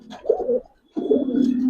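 Giribaz pigeons coo in a loft, two low throaty bursts close by separated by a short gap, with no talking.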